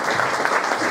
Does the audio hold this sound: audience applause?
yes